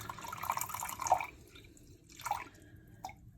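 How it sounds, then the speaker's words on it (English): Water poured from a half-cup measure into a plastic bottle makes faint, short trickling and splashing bursts, with quiet pauses between them. "I'm gonna add 1/2 cup of water to my bottle."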